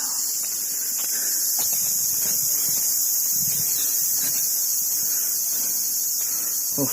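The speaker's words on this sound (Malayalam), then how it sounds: "ചിവിന്റെ ഒക്കെ ശബ്ദം കിട്ടു തുടങ്ങി" A dense, high-pitched drone of cicadas in a misty forest at Palkulamedu, Idukki, fills the air continuously, with faint rustling and soft walking footsteps underneath.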